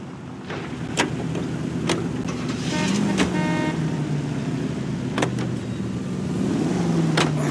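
A car in the video game L.A. Noire, its engine droning and shifting steadily at mid distance, with sharp transient clicks and knocks scattered across the scene and no talk.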